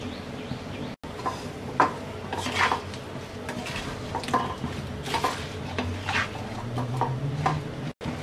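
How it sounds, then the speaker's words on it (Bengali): Raw mango pieces are stirred with salt, chilli powder, turmeric and vinegar in a pan for sweet pickle, near scraping and clinking of a spoon against metal in irregular strokes over a low background. "এবার আমগুলোকে মশলার সাথে ভালো করে মিশিয়ে নিয়ে মিডিয়াম লো আছে কিছুক্ষণ পরপর নেড়ে নেড়ে আম নরম হওয়া পর্যন্ত রান্না করব।"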